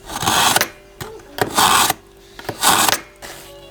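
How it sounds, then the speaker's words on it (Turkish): A clumsy beginner scraping a potato with a peeler, three loud rasping strokes about a second each, close up with short pauses between them and no voices. "Şöyle arkadaşlar acemi patates soyması"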